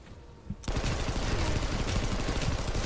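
Sustained, loud gunfire from a 3D first-person shooter as a turret is destroyed, bursting in abruptly after a quiet start and continuing as dense rapid shots and blasts to the end.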